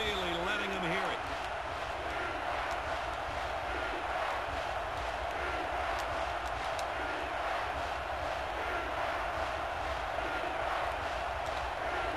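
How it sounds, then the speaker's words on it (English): Stadium crowd noise in an NCAA Football video game, Navy Midshipmen against LSU Tigers, forms a constant loud roar behind the play, with a voice talking over it at times. "The crowd is really letting them hear it."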